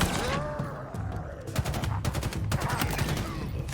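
Rapid bursts of gunfire from a weapon in the video game Halo Infinite, with dense repeated shots in quick succession over continuous game background sound.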